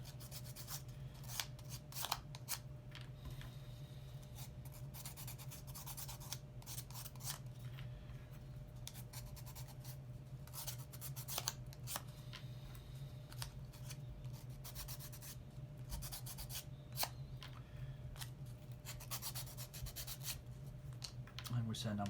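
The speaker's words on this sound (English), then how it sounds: "So I'm just going to use a sandpaper." Wooden part of a UGears mechanical tower windmill model being sanded by hand with sandpaper, quiet close scratchy rubbing strokes in irregular bursts over a low hum.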